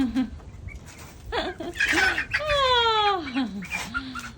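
A hen being handled gives off rising and falling squawks and clucks that come in short bursts, close by and fairly loud, with a few rustles between the calls.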